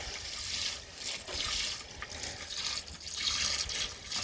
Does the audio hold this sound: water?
yes